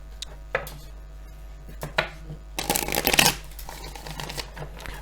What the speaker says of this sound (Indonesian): 3 kali lagi dan kartu ini ready untuk dipakai Leo.